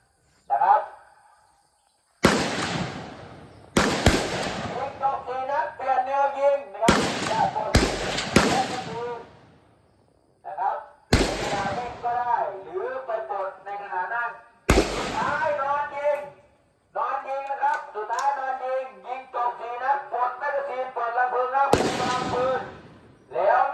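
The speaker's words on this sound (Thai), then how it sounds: "ยิงนะครับสี่นัดเช่นเดียวกันนะครับ" Rifle shots ring out at a military ranger shooting competition, several loud sharp cracks spaced irregularly across the stretch, each followed by someone speaking over a loudspeaker between the shots.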